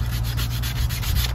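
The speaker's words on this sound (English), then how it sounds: "I'm just giving them a rub down" Hand sanding of cut wooden frame pieces with light sandpaper, a steady close back-and-forth rubbing in even strokes.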